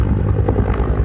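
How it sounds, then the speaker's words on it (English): A helicopter flies over a Greek coastline during a search, its steady low rotor and engine drone filling the air continuously and loudly. "helicopters scan the pristine coastline"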